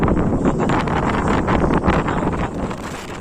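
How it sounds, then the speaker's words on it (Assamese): Strong, cold wind blowing across an open spot on a bridge, a steady loud buffeting roar with gusty rumble that stays constant throughout, no voices. "ৱেডাৰটো খুব বেয়া হৈ আছে, পূৰা ঠাণ্ডা লাগি আছে আৰু পূৰা বতাহো দি আছে"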